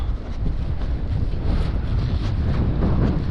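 Strong wind roars steadily across an open stretch of water during an evening fishing outing in bad weather, buffeting the microphone with a constant gusty rush and the wash of choppy waves.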